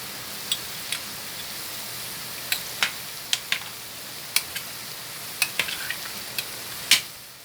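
A kimchi pancake fries quietly in a pan, a soft low sizzle broken by scattered sharp pops and spatters, close up with no voices.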